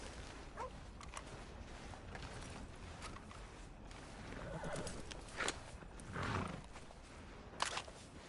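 A horse in a video game gives a few faint whinnies and snorts over soft background ambience, with occasional hoof or mechanical clicks scattered through.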